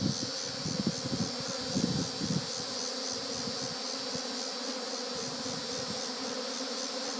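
Bees swarming over wet beekeeping equipment set out on a tray with a brood box and queen excluder, a dense steady buzzing of many insects, with a few louder close passes early on.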